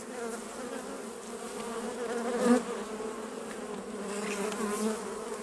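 Honeybees buzz steadily at a hive while a small colony is moved from a nucleus box into a full hive: a dense, continuous drone, close and moderately loud, with individual bees whining past and no talking.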